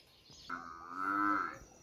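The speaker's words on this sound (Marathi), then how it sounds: "हे बघा म्हशीचं पारडो आहे दूध काढण्यासाठी तर त्याला भूक लागली आहे म्हणून तो आवाज देतोय" A single drawn-out moo from a hungry young buffalo calf, close and fairly loud, rising then fading, with no talking.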